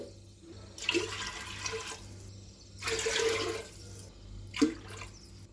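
Water pours in three separate bursts, splashing and gurgling into a cooking pot for rice, with quiet pauses between each pour.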